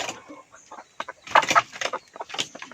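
Chickens, including large-combed hens on an egg farm, clucking close by in short, irregular bursts, with several birds calling over one another.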